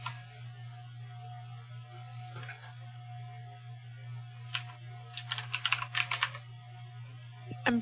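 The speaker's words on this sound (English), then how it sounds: "I'm typing." Typing on a computer keyboard, soft scattered keystrokes that gather into a quick burst of clicks near the end, over a steady low electrical hum with no talk.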